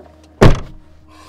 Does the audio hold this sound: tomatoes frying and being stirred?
no